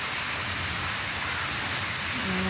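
Heavy rain falling in a village, a dense, steady hiss of drops pouring onto surfaces, loud and unbroken from start to end, with no talk.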